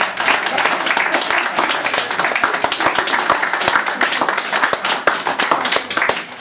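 Audience applause after a poetry reading, dense sustained clapping from a crowd filling the whole stretch, loud and close.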